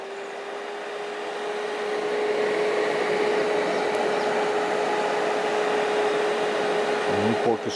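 A welding machine under repair is switched on, and its cooling fan gives a steady, loud whooshing hum with a constant tone that runs unbroken, ending in a brief clatter.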